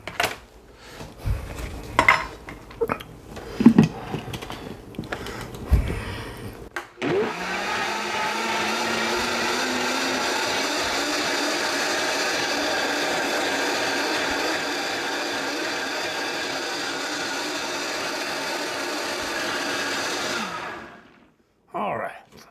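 A blender whirs steadily for about fourteen seconds, blending fermented jalapeno hot sauce, after a few clinks of spoons and dishes and some shuffling. It then stops abruptly, followed by a brief clatter.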